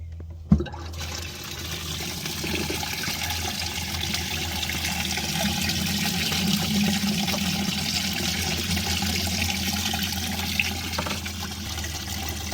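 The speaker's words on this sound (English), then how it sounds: "So we got the live wells running." Boat live wells running, water bubbling and churning steadily like a jacuzzi, a continuous close wash of liquid noise with a low pump hum underneath, no talking.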